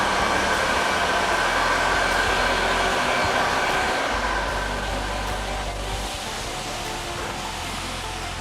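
A Numatic scrubber dryer runs continuously while cleaning a floor, a steady loud whirring motor and suction hiss that eases slightly toward the end, with no voices.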